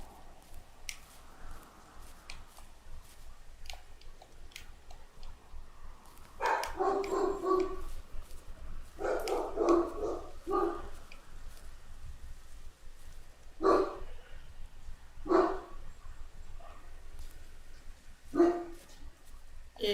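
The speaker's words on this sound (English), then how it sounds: "If you happen to be hearing dogs barking," Dogs bark in the background, several distinct bursts of barking spread out over time, fairly faint against a quiet room-tone backdrop, with no talking.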